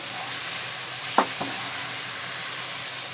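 Onion, potato and tomato sauté in a pan with a steady soft sizzle, plus a couple of quick stirring clacks, close and alone without talking.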